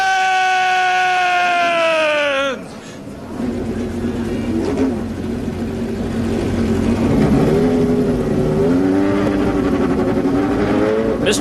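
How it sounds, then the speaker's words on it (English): Indy Lights race car engines fire up on the Toronto street circuit after a drawn-out voice, then idle and rev loudly in a dense, close mix, pitch swelling and dipping as throttles are blipped. "Drivers, start your engines!"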